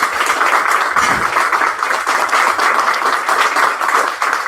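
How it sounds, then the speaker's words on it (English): A seated audience claps for a graduating cohort at a speech ceremony, the sustained dense applause steady and loud for several seconds with no pauses. "can we give another round of applause to Cycle 20?"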